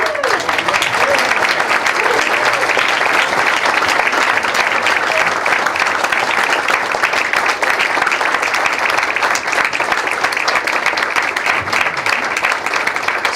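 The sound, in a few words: applause for award fellows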